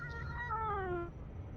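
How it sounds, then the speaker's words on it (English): A cat yowls in one drawn-out, wavering cry that slides downward in pitch and then fades, close and clear with no voices over it. "Are you sure you are not putting that cat through a mangle?"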